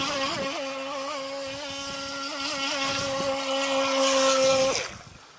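Twin motors of a Skytech H100 RC boat run on water with a steady high-pitched whine that rises and falls slightly as it speeds along, close and loud, before cutting off near the end.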